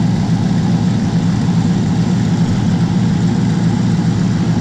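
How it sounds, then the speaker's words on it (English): A Dale30 engine with an exhaust leak at one cylinder near its welded headers runs at a steady idle, loud and close, a constant low throbbing drone with no pauses and no voices. "Might just hop out and check that exhaust leak"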